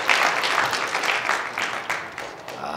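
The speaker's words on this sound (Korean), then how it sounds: "이제 슬슬 유럽팀 박수가 한 번씩 나오고 있습니다" Spectators applaud the European team during a three-cushion billiards match at the Continental Cup between Dick Jaspers and Cho Jae-ho, a steady crowd clapping that fills the hall without pause and carries no clear speech.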